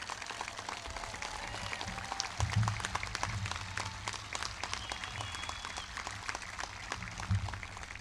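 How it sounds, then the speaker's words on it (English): A crowd at a high school graduation claps in a steady, moderately distant round of applause with low murmuring beneath it. "could we just give a big round of applause to all these people?"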